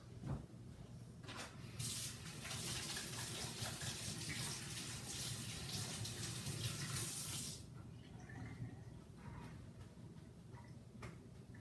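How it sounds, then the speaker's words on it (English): Tap water runs steadily for several seconds while hands are washed at a kitchen sink, a close broadband rush that then cuts to softer dripping and handling sounds. "Let me wash my hands."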